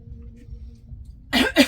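Two sharp, loud coughs from a person at a meal who has just eaten a spicy salad, coming in quick succession near the end after a quiet stretch.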